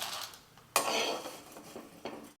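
Coconut-oil-fried food for a homemade soup is scooped from a pot into a bowl, with quiet metallic clinks and scrapes of a utensil against cookware and one sharper knock partway through.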